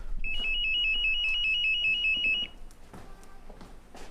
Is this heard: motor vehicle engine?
no